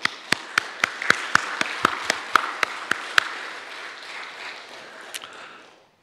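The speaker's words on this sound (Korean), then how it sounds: "저쪽에 계신 것 같은데 박수 부탁드립니다" A church congregation at a Sunday service in a Korean church in Southern California applauds a visiting guest: sharp, evenly spaced claps stand out over a softer crowd wash that thins and fades away after a few seconds.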